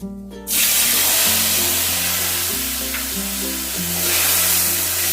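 Spice paste for a mug chingri masala hits the hot frying spices in the pan, bursting into a loud, continuous sizzle after a short pause, with steady background music tones running beneath.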